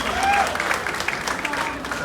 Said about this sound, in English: Give a huge round of applause to Dr. Subhan Sharif.